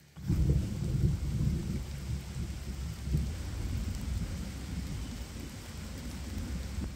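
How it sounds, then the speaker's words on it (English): Deep rolling thunder rumbles continuously over steady rainfall in Washington's Wenatchee Mountains, loud and sustained throughout without any voices. "That is some rolling thunder right there"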